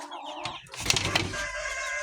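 Farm chickens cluck and a rooster crows nearby in hot weather, a short burst of loud fowl calls over softer background clucking.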